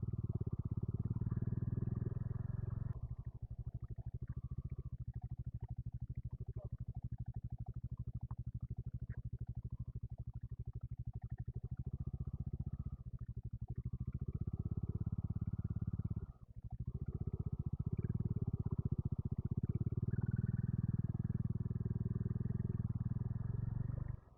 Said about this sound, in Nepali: पछाडि एउटा बाइक कि स्कुटी अझै आउँदैछ